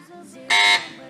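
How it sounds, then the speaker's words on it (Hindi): Quiz show buzzer at a religious knowledge quiz, one loud bright electronic buzz lasting about a quarter second, with quiet speech before and after. "बजर बजाइए"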